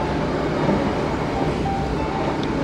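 The Argo Muria passenger train out of Semarang rumbles along, heard from inside the carriage. A steady, loud low roar fills the clip, with faint rail rattle and a brief high whine near the end.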